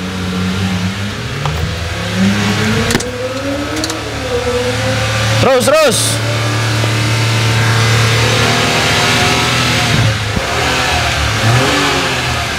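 A Honda Civic FD engine revving during a jump start, rising and falling in pitch with a sharp rev burst in the middle. Someone speaks briefly over the close, loud engine.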